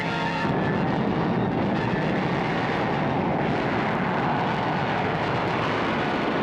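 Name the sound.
attack planes flying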